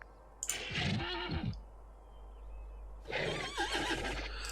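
Two loud, close horse neighs from a farm video game, each a shrill, wavering whinny about a second long, with a quiet pause between them.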